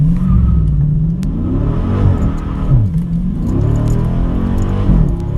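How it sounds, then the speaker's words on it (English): A Dodge Scat Pack launches on launch control from about 2,000 RPM. The engine revs hard and loud while the tires spin off the line in a continuous, rising-and-falling roar, with no talking. "That was a pretty hard spin coming off the line."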